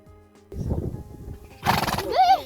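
A horse on a countryside walk neighs loudly up close after a few soft hoof clops and snorts, the whinny rising and wavering at the end, with no talk.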